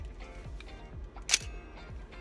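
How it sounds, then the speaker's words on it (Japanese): A Nikomat EL film SLR's vertical-travel shutter fires once, a single short, bright, slightly tinny click, close up above quiet background noise, with no talk. "シャッターの音なんですけどね、やっぱねF とか F2 とかにね比べるとねだいぶ安っぽくなります。"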